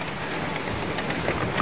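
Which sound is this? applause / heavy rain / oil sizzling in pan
heavy rain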